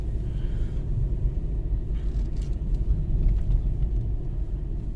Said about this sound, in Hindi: गाड़ी बहुत ज़्यादा स्ट्रगल कर रही है, ऑक्सीजन लेवल कम होते जा रहा है धीरे धीरे, इसकी वजह से स्ट्रगल कर रही है ज़्यादा